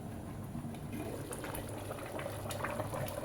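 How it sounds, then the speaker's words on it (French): Pondu, cassava leaves, simmers in a covered pot, giving a steady, continuous bubbling hiss at moderate level with small pops scattered throughout and no talking. "le pondu est en train de cuire"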